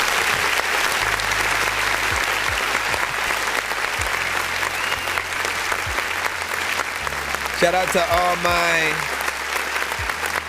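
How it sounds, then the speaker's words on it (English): Continuous applause runs under someone talking during a live music review stream for underground artists, with a low beat and a brief warbling tone mixed in. "Hey, hold up, let's clap for that right quick."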